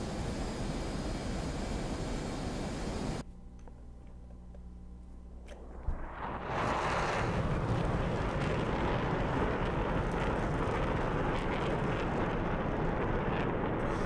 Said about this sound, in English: The sound of the Hornet now is just incredible.